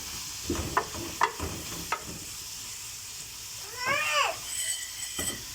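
Zucchini and minced meat sizzle softly in a frying pan while a utensil scrapes and clicks against the pan in a few sharp strokes, followed by a short rattling scrape.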